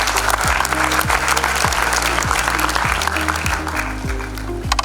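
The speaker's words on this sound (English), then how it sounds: "give him a round of applause" Audience applause at an airline training college graduation ceremony in 2023, sustained and fairly loud, with music or a tonal pattern underneath that repeats in falling steps, and no voices standing out.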